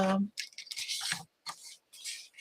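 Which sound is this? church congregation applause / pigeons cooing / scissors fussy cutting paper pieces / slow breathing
scissors fussy cutting paper pieces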